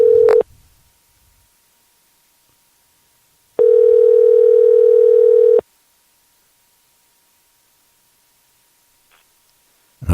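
A telephone dial tone sounds in brief bursts after hanging up: a short tone, then a sustained two-second steady hum amid long silence, and another tone starting at the end.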